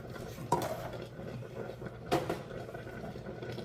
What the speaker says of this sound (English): let's stir it all up